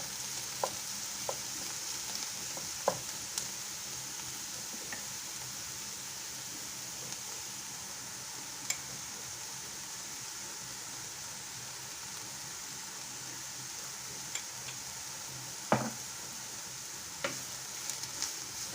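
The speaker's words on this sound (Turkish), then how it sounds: "Küçük bir çay bardağı dolusu yağda kızartalım." Oil sizzles steadily as diced eggplant fries in a pan, a constant hiss broken by occasional pops and clinks of a utensil.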